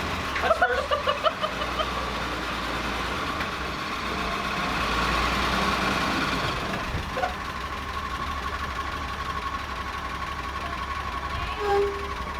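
A carbureted Willys jeep engine idles in a steady, low rumble that runs throughout, close by and fairly loud, with a brief rise near the end and faint voices in the background.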